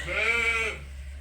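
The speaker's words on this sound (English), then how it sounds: "in the lamb pen, we got a little bit of mayhem going on with some of these lambs" A lamb in a pen gives a single loud, close bleat lasting under a second, with a low steady hum underneath.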